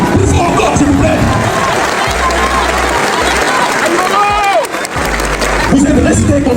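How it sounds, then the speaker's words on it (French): A large outdoor crowd at a rally applauds and cheers loudly and continuously, a dense roar of clapping and voices with some chanting tones and low rumbling underneath. "Applaudissez-vous encore une fois, s'il vous plaît."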